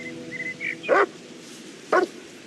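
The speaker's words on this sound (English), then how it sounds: "A bark signals that something has been detected." A detection dog working in dense mountain terrain gives two sharp, loud barks about a second apart, with faint whimpering whines before the first bark.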